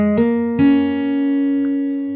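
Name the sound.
fingerstyle guitar fill from a song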